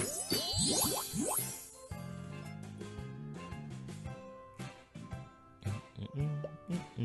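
Bright chiming tinkles mark matched bell gems in the HuniePop puzzle game, quick descending and ringing tones over soft game music, clear and close.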